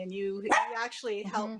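A pet dog yips and barks a few times close by, short excited yelps woven under a person's talk.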